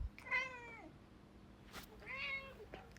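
A house cat gives two clear, drawn-out meows about a second apart, close by but soft, over a quiet room with a faint background hum and no talking.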